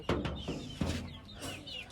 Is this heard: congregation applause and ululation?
no